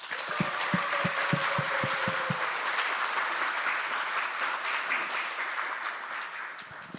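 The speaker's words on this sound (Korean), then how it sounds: "우리 함께 환영의 박수 인사하도록 하겠습니다" A church congregation gives welcoming applause during a Sunday worship service to greet a newlywed couple, steady moderate clapping from a roomful of people, with a few distinct nearby claps early on.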